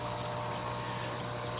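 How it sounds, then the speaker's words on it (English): A pond water pump drives water up a 3-inch pipe, a faint, steady hum with a constant low rushing flow and no change throughout. "the other pump shoots the water up this 3-inch pipe right here"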